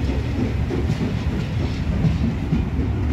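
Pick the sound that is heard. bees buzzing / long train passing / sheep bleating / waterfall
long train passing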